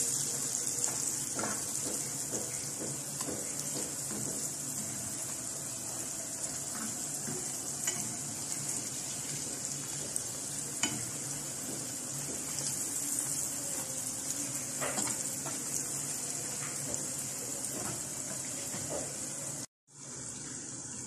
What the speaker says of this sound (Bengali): আস্তে জাল দিয়ে এটা একদম কড়া করে লাল লাল করে ভেজে দিতে হবে।